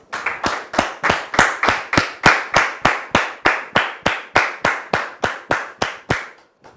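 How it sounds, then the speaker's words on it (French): A welcoming audience claps in a strong, steady unison rhythm, about eighteen even beats over roughly six seconds, loud and close, with no talk, before stopping abruptly. "maintenant sous vos applaudissements"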